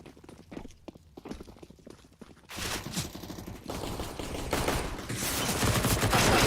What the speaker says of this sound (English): They are just being mowed down by the SMGs, taking a lot of damage.